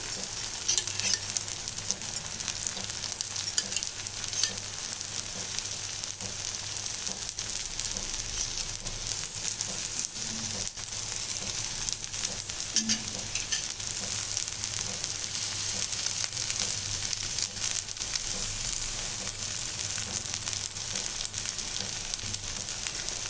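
Wheat flour dosa frying in oil on a pan, a steady close sizzle running evenly throughout with no talking.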